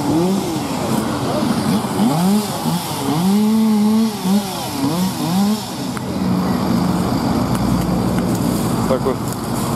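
A chainsaw fells trees during illegal logging in the Bychok tract of Holosiivskyi National Park in Kyiv, its engine revving and whining up and down close by while people talk over it.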